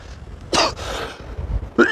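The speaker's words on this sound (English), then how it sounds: "Sorry for coughing because I've had a bad cold." A person with a bad cold coughs a few times up close on a beach, harsh bursts separated by brief pauses, with quiet background noise.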